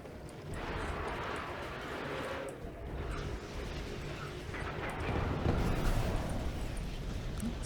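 Rumbling blasts and crackling detonations from an Orca Strike air attack in the strategy game Kane's Wrath, a steady roar of explosions that swells louder toward the end, with no talk.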